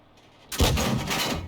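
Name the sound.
artillery shell fired from a leFH18B2 howitzer in a video game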